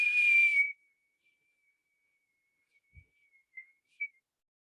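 A single long, steady high whistle blown out during a forced exhalation lasts well under a second, then cuts off, leaving near-silence with a few faint, scattered soft whistle fragments afterward.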